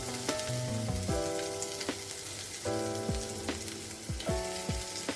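Boiled potatoes are added to hot oil spiced with turmeric and sizzle steadily, with a few sharp clatters of a utensil stirring the pan close by and no talking.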